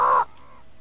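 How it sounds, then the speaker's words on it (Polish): A parrot in the video game Alone in the Dark 2 gives a single short, harsh squawk that cuts off quickly, leaving faint background tone. "Wow, papuga."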